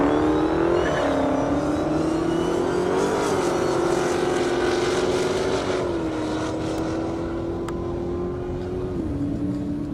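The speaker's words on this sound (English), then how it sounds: "Matt Stetz in the Audi S4, 420 horse, but 900 in the Challenger." Engine roar from an Audi S4 and a Dodge Challenger racing on a half-mile airstrip, a loud sustained drone with a rising pitch as they accelerate, a couple of gear-shift dips, and the sound fading slightly toward the end.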